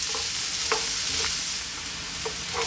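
Sliced potatoes stirred in a pan over fairly lively, above-medium heat, a dense steady sizzle close up with several sharp utensil scrapes scattered across it.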